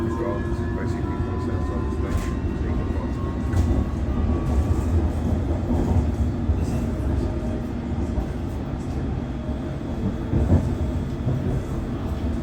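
A London Underground District Line train bound for Richmond rumbles along steadily, with a low roar, faint squeals and occasional clatter of the rails, heard from inside the carriage.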